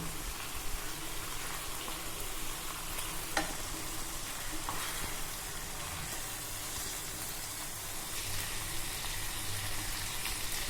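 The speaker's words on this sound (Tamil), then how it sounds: "இப்போ இந்த முட்டையை இதில் நம்ம சேர்த்துடலாம்." Eggs are added to a pan of egg thokku gravy with separated oil and stirred, under a steady soft sizzle and hiss with a couple of light spoon taps, fairly quiet and without talk.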